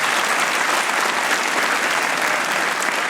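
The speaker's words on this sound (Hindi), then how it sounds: "वसीम अकरम, तालियां होनी चाहिए वसीम अकरम के लिए।" A TV comedy talk-show audience claps for cricketer Wasim Akram, with dense, loud, sustained applause filling the room throughout.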